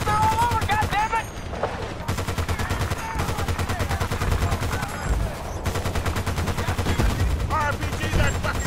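Gunfire in Battlefield Bad Company 2 rattles in rapid, loud automatic bursts almost without pause, while voices shout over the shooting.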